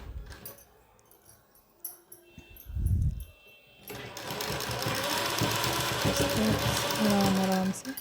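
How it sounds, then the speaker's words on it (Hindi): A sewing machine stitching lace onto a printed suit starts up after a few seconds of quiet handling, with a low bump, then runs as a loud steady close whir. Someone talks over it. "आराम से एक एक सिलाई लगा देते हैं इसके ऊपर"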